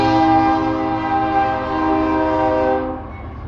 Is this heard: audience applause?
no